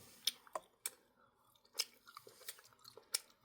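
Someone chews cherry-flavored jelly candy close up, giving a few soft, wet crunchy bites with short gaps between them, quiet and with no talking.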